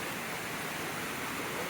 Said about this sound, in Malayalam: രണ്ടാമത്തെ വെള്ളച്ചാട്ടം